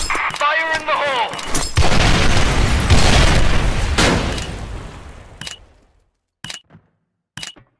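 A grenade blast in the military shooter Special Force 2 erupts as a loud, wide rumbling boom after a short voice, rolls on for a few seconds and fades, followed by a few sharp clicks.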